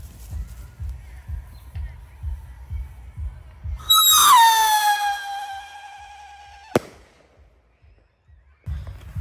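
A consumer firework called Winda Howling Commandos launches after soft footsteps, letting out a loud, shrill howling whistle that bends and fades over a couple of seconds, followed by a single sharp crack.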